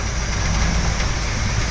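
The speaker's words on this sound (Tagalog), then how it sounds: "napakalakas po ng ulan" Dense, hissing heavy rain drums steadily over a low vehicle engine rumble while driving in Manila, loud and continuous.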